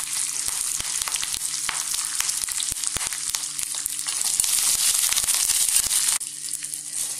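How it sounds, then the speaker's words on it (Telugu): Green chillies, dried red chillies and curry leaves fry in hot oil for a South Indian dahi vada tempering, giving a loud, continuous sizzle and crackle with occasional stirring scrapes, close by and with no talk. "వేసి వేయించుకోవాలి."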